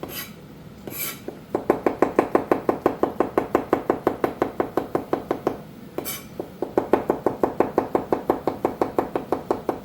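Knife chopping mushrooms on a cutting board in a home kitchen, steady rapid thuds in quick rhythmic bursts with a brief pause midway, close and distinct, no talking.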